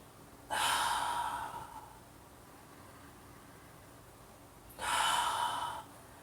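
Two deep breaths taken during a seated yoga twist-and-stretch, each a broad airy exhale lasting about a second, close to the microphone with a quiet pause between them and no talking.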